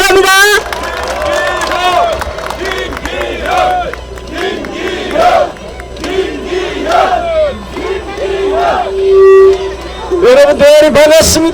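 Loud rally crowd cheering and shouting at a by-election campaign event outside Balsan Station in Gangseo, with voices rising in waves over a steady babble for several seconds.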